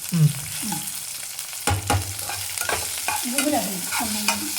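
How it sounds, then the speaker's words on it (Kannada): Chopped onion, ridge gourd and curry leaves sizzle and fry in a pan for ridge gourd chutney, with close scraping stirs and clatter over a steady hiss. "ಉಳ್ಳಾಗಡ್ಡಿ ಹೀರೆಕಾಯಿ ಎಲ್ಲ ಚಂದ ಹುರಿಬೇಕು"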